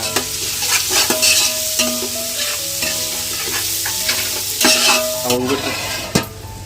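About half a kilo of onions sizzles in a pan for a tomato gravy, a steady frying hiss broken by clinks and scrapes of a spoon stirring against the metal.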